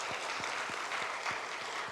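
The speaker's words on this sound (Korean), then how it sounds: "박수로 한번 감사하겠습니다" Applause from a church congregation thanking the choir after an afternoon praise service: a steady, dense wash of clapping held evenly for two seconds at moderate distance.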